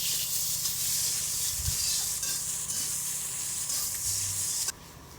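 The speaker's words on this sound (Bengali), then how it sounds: "পেঁয়াজ ভেজে নেব।" Chopped onions fry in oil in a pan for a fish curry with cloves and cinnamon, giving a steady, close hiss with occasional stirring scrapes that cuts off near the end.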